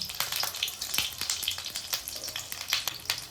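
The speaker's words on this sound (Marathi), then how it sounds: "खूपच उडतंय ते, डेंजर प्रकारे बघू शकता" Stuffed bell peppers fry in hot oil, a loud, continuous crackling sizzle with dense sharp pops and splatters throughout, close up with no voices.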